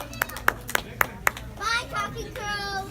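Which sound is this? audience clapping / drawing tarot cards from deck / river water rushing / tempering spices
audience clapping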